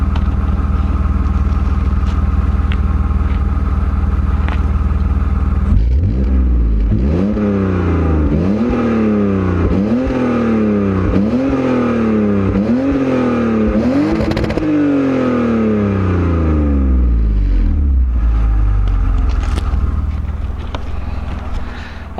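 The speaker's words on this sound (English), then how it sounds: "give you guys a little exhaust note." A BMW E46 idles with a low rumble, then its engine is revved repeatedly in a rising and falling series of about seven blips before settling back to idle, loud and close.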